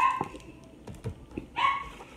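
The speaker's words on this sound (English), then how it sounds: "I'm gonna open the door for my dog because she keeps barking" A dog barks a few times indoors at a moderate distance, with short yelps scattered through a home setting where a faint tapping also sounds in the background.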